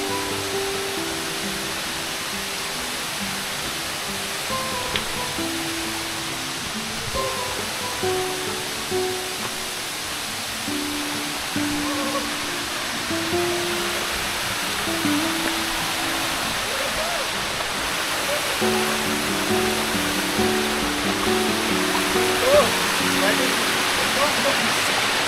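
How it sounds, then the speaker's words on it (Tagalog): A large waterfall roars as a steady, loud wash of rushing water, heard during a road trip in Camarines Sur, Bicol. Voices talk and exclaim over it, with music faintly underneath. "Ay, ang laki ng falls."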